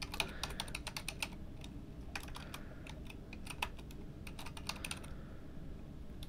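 Rapid keystrokes on a computer keyboard as a folder name is typed, arriving in quick irregular bursts with brief pauses, close and fairly clear over a low room hum.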